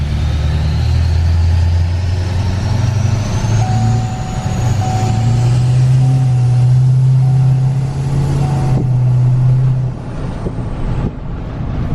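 A 2020 Duramax diesel pickup, recently retuned, idles while warming up. Its low engine drone holds steady and close, with a slight rise and fall in pitch before it settles near the end.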